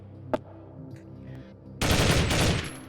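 Gunfire from an M4 rifle in a VR locomotion test chamber demo: one sharp early shot, a few faint clicks, then a loud, dense burst of rapid automatic fire lasting about a second.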